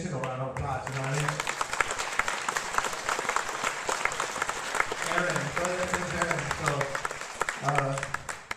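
A room of people applauds a sound technician, steady dense clapping filling the whole stretch with a voice or two talking over it at moments.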